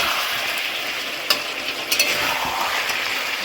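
Mutton with onions and spices stirred and fried in a pan, a steady loud sizzle with a few sharp scrapes and clinks of the spoon, no voices.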